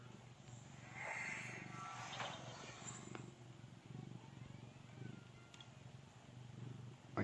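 A pet cat purrs close by, a steady low rumble running through the whole stretch with a few brief louder rustles, no talk over it.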